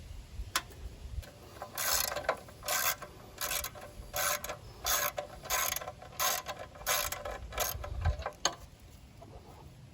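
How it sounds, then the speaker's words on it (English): Ratchet wrench removing 8 mm nuts from the starter assembly of a petrol engine, with bursts of rapid close clicking in repeated strokes separated by short pauses and no talk. "I'm going to use that 8 mil, take these nuts off"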